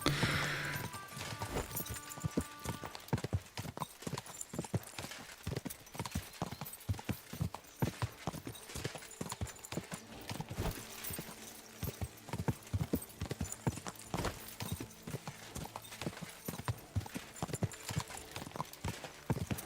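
Rapid, steady clip-clop of horse hooves running on a hard surface in a medieval Bohemia video game, loud and close, with a brief whinny early on and no talking.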